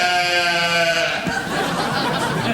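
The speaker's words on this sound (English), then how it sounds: "Oh, is that the sheep?" A sheep's drawn-out wavering bleat rings out at the start of a late-night TV talk show clip, then gives way to noisy, chattering laughter-like sounds.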